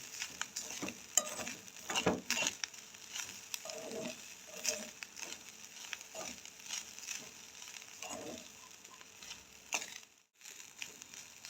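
Grated beetroot cooks in ghee for burfi, with a soft frying hiss under irregular scraping stir strokes against the pan that stop briefly near the end.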